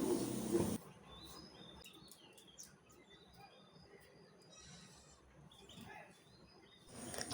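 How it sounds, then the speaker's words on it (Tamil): A sparrow chirps while building its nest indoors, giving brief high tweets scattered through a quiet room, with a louder burst of noise at the start and end. "குருவி எவ்வளோ அழகாக கூடு கட்டுது,"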